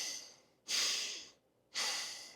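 Slow, deep breaths taken low into the pelvis during a wide-stance adductor hip stretch, two long airy exhales a little apart, close and clear with no talking.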